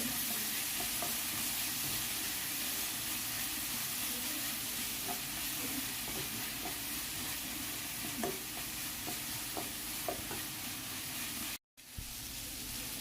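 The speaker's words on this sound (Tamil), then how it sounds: "இதெல்லாம் போட்டு நல்லா வதக்கிக்கலாம்." Ginger garlic paste, tomato and vegetables sautéing in a pan for paneer rolls, a steady loud sizzle with occasional spatula scrapes and taps, close by, ending in a brief cut and a quieter stretch.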